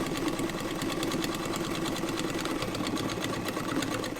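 Modified Frister & Rossmann 35 sewing machine, set up for heavy-duty work, stitching through two layers of fabric, a fast, even mechanical chatter of rapid needle strokes running steadily and close.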